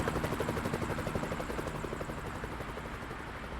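Helicopter flies under the Gateway Arch in St. Louis, its rotor beating in a rapid steady chop that stays moderately distant and gradually fades, with no one talking.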